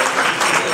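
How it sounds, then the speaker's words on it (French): A crowd applauds after a rugby match, a brief and dense burst of clapping that stays fairly loud throughout. "la première chose, c'est de vous applaudir."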